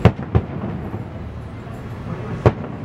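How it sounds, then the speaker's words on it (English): Disneyland fireworks burst outdoors at night in a few distant booms, two close together at the start and another after a pause, over a steady crowd murmur. "Watching the fireworks."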